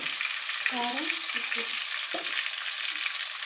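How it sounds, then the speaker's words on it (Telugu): Eggs fry in hot oil with chili powder and salt, a constant close crackling sizzle with a few faint squeaks from the pan over it. "దాంట్లో తగినంత కారం ఉప్పు వేసుకొని మనకు సరిపడంత వరకు ఫ్రై చేసుకోవాలి"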